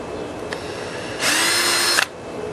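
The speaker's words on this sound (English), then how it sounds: "you always want to pre-drill your holes" A power drill pre-drilling screw holes in the top of a door whirs in one short, steady burst of under a second, close by, after a faint tap and ending with a small clack.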